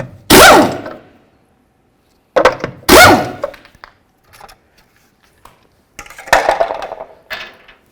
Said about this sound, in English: we're going to continue by removing our 21mm lug nuts